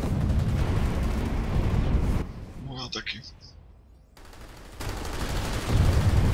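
Video game gunfire from a night fight roars as a dense, continuous burst of shots and blasts, drops away briefly while someone speaks, then resumes loud and steady.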